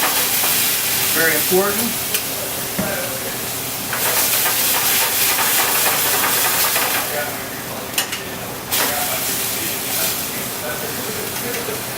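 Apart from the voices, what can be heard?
wine deglazing a hot pan, sizzling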